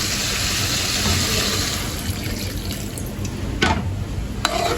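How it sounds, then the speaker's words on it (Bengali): Water poured from a vessel into cauliflower curry simmering in a pan, a steady continuous splashing and running liquid sound, close and fairly loud, with no talk. "এখন আমি পরিমাণ মতো জল দিয়ে দিই"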